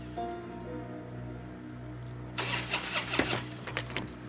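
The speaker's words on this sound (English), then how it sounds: "That night, he couldn't start his car." A car engine cranks and sputters without catching at night, the starter churning in uneven bursts in the second half after a quieter stretch of low hum, with no talking.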